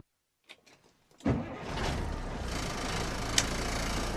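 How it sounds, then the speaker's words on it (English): A lorry engine starts: a few faint clicks, then a sudden loud catch into a steady close running rumble that holds to the end, with no talk. "Peter started the engine and drove off."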